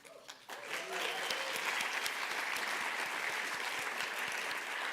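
Audience applause at an anniversary celebration of a county public art program in Miami-Dade, a dense, steady clapping that swells within the first half second and then holds loud and even.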